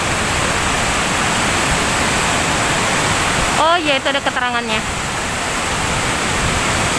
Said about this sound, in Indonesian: berasa itu suara airnya tuh deras.